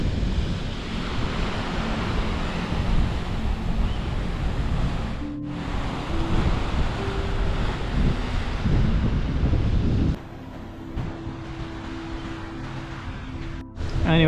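Wind and surf at Muksil beach in Oman, with a steady broadband roar of breaking waves and gusting wind buffeting the microphone, loud and continuous, easing slightly near the end.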